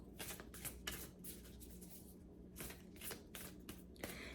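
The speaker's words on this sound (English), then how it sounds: "I'm going to give them a good shuffle" Repeated riffling bursts of playing cards being shuffled, several quick shuffles in a row, close and fairly quiet.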